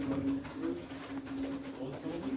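Low, droning coos from a breeding pigeon at a pigeon auction sit beneath faint crowd murmur, a steady tonal hum repeating through the moment.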